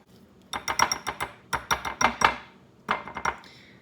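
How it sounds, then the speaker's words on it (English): Ingredients are whisked in a bowl with three quick bursts of rapid, bright rhythmic clattering of metal against the bowl, close up and separated by short pauses. "So we'll just whisk it together."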